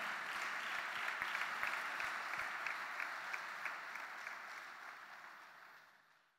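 A church congregation applauding, a dense, even wash of clapping from many hands that holds steady and then fades away near the end, with a few sharper claps standing out near the start.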